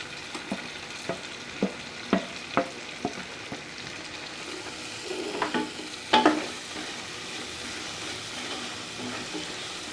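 Onion, garlic and ginger paste sautéing in a pan for mutton biryani, a low steady sizzle under a regular series of spoon taps and scrapes, then a couple of louder clanks of the utensil.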